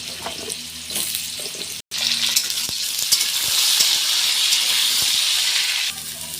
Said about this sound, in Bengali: তিনটে তেজপাতা আর একটা শুকনো লঙ্কা সঙ্গে গোটা জিরে ফোড়ন দিলাম এবার আলুটা দিয়ে দেবো তো আলুগুলো তেলের উপর খুব ভালো করে ভেজে নেব